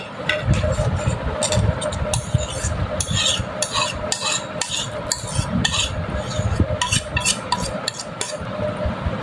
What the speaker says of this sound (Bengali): চিজের সাথে আমি ডিম মেখে নিয়েছি